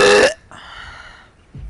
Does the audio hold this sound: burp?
yes